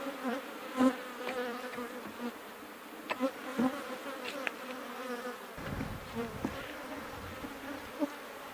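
Honey bees swarm around an open hive whose frames hold capped honey and fresh comb, a steady close buzzing that rises and falls with occasional louder passes and a few knocks, with no voices.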